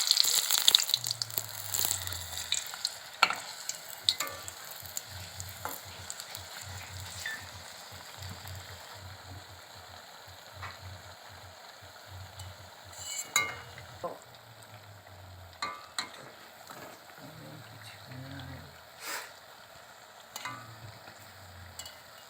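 Pakoras made from hincha greens frying on a gas stove at medium flame, with a steady crackling sizzle throughout, bursts of louder spattering and occasional stirring or turning clatter.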